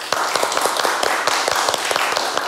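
An audience at a hairdresser cut-battle event claps for two hairdressers, with a quick scatter of crisp, close hand claps running continuously for a couple of seconds.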